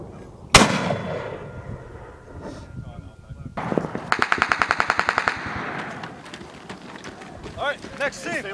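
Marine live-fire training at a desert base: one sharp shot, then a rapid burst of machine-gun fire in close succession, with shouted commands from Marines in between.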